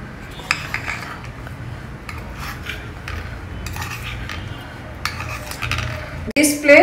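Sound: removing steamed idlis from the plate with a spoon

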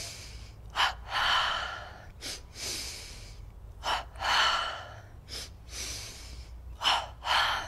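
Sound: double breathing exercise, Yogananda energization

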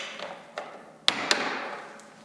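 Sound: knocking a paint rack piece loose

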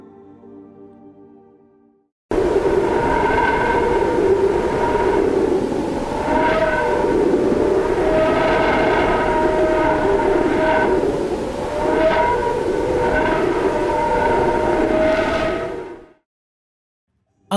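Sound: space probe recording of solar wind plasma

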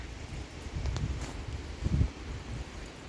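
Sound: wind blowing outdoors on a snowy day

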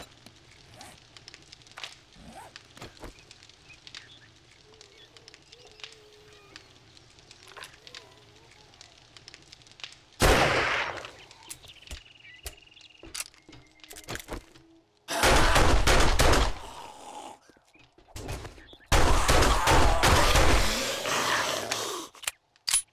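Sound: rifle gunfire in the video game 7 Days to Die

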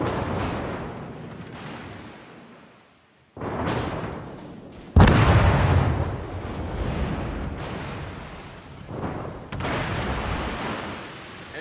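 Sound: ship guns firing in World of Warships video game

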